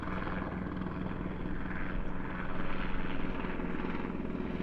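A helicopter flying overhead, a loud, steady rotor drone with a continuous low thrum that swells slightly toward the end, heard alone.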